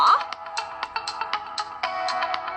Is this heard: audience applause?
no